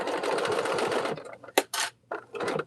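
A sewing machine stitches a quarter-inch quilting seam, a rapid buzzing run followed by short separate bursts and pauses as the stitching stops and starts, close and clear, with no talking.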